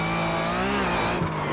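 A race car in the iRacing sim slides through a corner on cold tires, its engine a steady, loud drone with a sustained tire squeal and a brief shift in pitch near the end.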